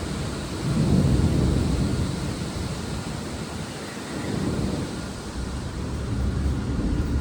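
Heavy rain pours steadily near a balcony during a thunderstorm, with deep rolling thunder swelling in low rumbles under a constant broadband hiss, loud and close throughout.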